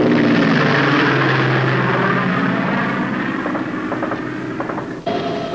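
Propeller-driven charter plane flying over Laos at Long Chen during the Secret War, its engine giving a loud, steady droning roar that fades slightly toward the end, alone without talk.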